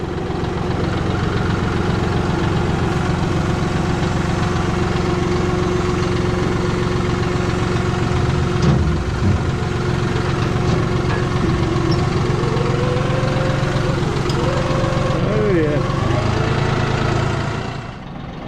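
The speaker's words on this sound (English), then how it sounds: "We're gonna back up, Terry." Vehicle engine idling steadily and loudly while backing up in a field, a constant low rumble with vibration throughout and a few faint squeaks near the end.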